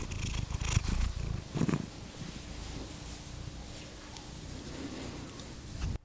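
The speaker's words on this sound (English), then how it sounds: "See if we can catch his purr on the mic." A house cat named Toby purrs close to the microphone, a steady low rumbling drone that runs through the whole stretch alongside soft rustling and handling noise.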